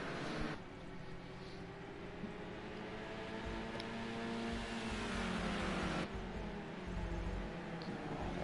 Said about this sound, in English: The pack still rumbles off as we start lap 25